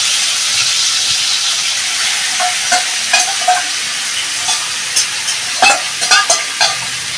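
About 700 grams of mutton fries in a hot pan, a steady bright sizzle broken by scattered clinks and scrapes as it is stirred.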